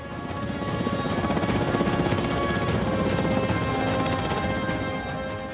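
Military helicopters during an army operation against IS in Iraq, a steady loud rotor drone with rapid blade chop that swells and fades slightly, heard alone without talk.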